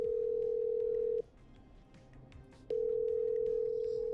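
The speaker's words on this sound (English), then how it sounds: "I'm dialing." Steady telephone dial tone from the video game Killer Frequency, a continuous pure hum that cuts out briefly for about a second and a half before resuming, faint with no voices.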